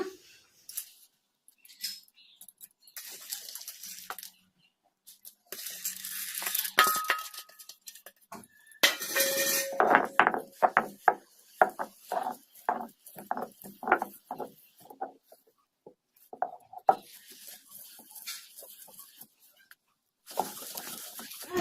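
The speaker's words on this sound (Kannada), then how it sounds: "ಇನ್ನೂ ಸ್ವಲ್ಪ ಬೇಳೆ ಇದಾವಲ್ಲ ಇವನ್ನು ಕೂಡ ಹಾಗೇನೆ ರುಬ್ಕೊಂಬಿಡೋಣ" Alasande dal being ground by hand in a traditional village stone grinder: intermittent scraping and knocking of stone, in bursts with quiet gaps, close by and fairly faint, with no voices.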